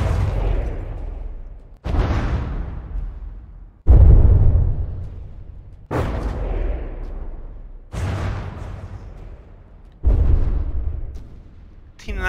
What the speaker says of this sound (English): T99 taking a hit to its side armor there